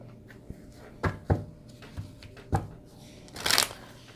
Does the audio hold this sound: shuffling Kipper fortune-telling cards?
yes